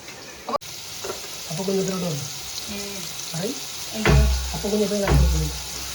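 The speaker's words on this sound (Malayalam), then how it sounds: "അയ്യോ മീൻ വറുക്കണേ" Fish frying in a pan at home during an evening cooking routine: a continuous crackling sizzle runs beneath voices talking nearby, with a few louder bursts toward the end.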